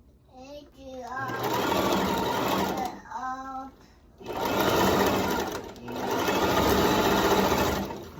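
A sewing machine runs in three long close bursts along a skirt edge, with a voice chattering briefly near the start and between runs.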